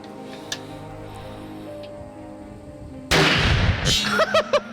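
Rifle gunshot at target practice during a whitetail hunting outing, a single loud, sharp blast after a quiet stretch of steady background hum, followed by ringing echo and a few bursts of voices.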